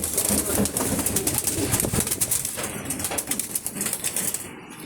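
Racing pigeons in a loft coo and beat their wings in repeated bursts of flapping, close and fairly loud, with soft background murmurs.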